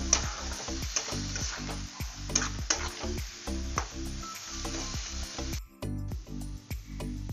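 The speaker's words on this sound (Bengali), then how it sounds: "এই সয়াটা দিয়ে দিলাম কষিয়ে" Soya chunks being stir-fried in a pan for a vegetarian dish, steady loud sizzling broken by repeated rhythmic scrapes and knocks of a spatula against the pan, close up.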